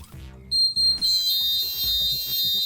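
Building fire alarm sounders going off during a full evacuation in a flat corridor, a loud steady electronic tone that starts after pulsed bursts and then holds continuously, with voices faintly underneath.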